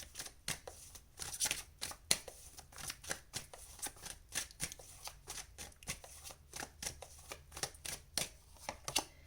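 A deck of tarot cards is shuffled by hand, giving quick soft riffling and slapping bursts in an irregular rhythm, faint and close, with no voices.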